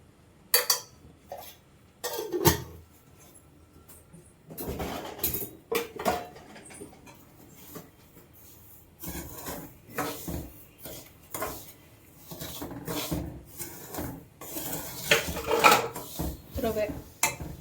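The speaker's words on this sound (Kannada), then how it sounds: "ಮೂರು ಲೋಟಕ್ಕೆ 1-2 ಸ್ಪೂನ್ ತುಪ್ಪ ಹಾಕಿ ಘಮ ಬರೋಷ್ಟು ಚೆನ್ನಾಗಿ ಹುರ್ಕೋಬೇಕು." Semolina roasting in ghee in a pan for uppittu, with a spoon scraping and clinking against the metal in irregular bursts of stirring, close and moderately loud, with brief speech in the background.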